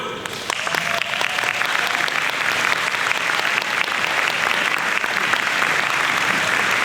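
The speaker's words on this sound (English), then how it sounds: "As I say your name, please rise and wait for gracious applause" Steady, dense audience applause fills a college event as a board member is introduced, a continuous wash of many hands clapping at even loudness throughout.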